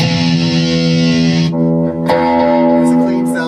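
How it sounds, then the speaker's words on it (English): An electric guitar plays a riff starting on the low E string, sustained distorted notes ringing out with echo and delay trails, loud and close, with a brief break before the ringing resumes. "Echo and delay."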